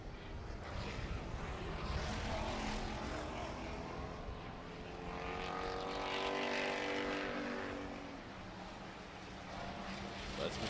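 Pure stock race cars roar around an oval track during a heat race, engine noise steady and loud with a rising and falling pass midway through, under continuous crowd and track ambience.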